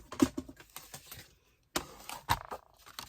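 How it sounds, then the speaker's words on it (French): Card stock being cut for a pink fairy scrapbooking card, heard as close, crisp clicks and scraping strokes in irregular bursts, with a short silent gap midway before the cutting resumes. "on va déjà commencer par découper notre carte ici"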